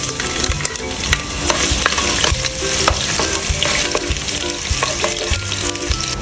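Ginger sautéing in hot oil with chicken for saleng manok lemongrass chicken soup, a steady loud sizzle and crackle with scattered stirring clicks, close and continuous with no voices.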